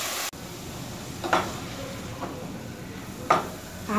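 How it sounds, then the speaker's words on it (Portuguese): Broccoli sautéing in a pan, a steady close sizzle with a couple of soft scraping stirs and a brief clunk near the start, with no voices. "Aqui a gente vai refogar por uns 3 minutos"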